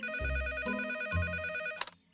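Cartoon telephone ringing loudly in repeated electronic bursts of bright, steady tones, then cutting off near the end, with no talk over it.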